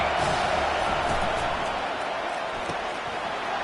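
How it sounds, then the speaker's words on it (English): A college football stadium crowd at Oregon versus Penn State roars on third down, a dense, loud, sustained wall of cheering and noise with no break. "Decibels rising as the crowd gets behind this defense on 3rd down."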